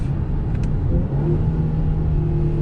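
A 2021 Mercedes-Benz C43 AMG engine hums low and steady from inside the cabin while driving, a smooth rumbling drone with a slight rise in pitch, no voices.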